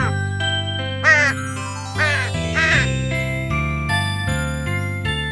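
A cartoon crow caws twice in a Telugu children's animation, harsh voiced calls rising over steady, bright background music with chiming tones.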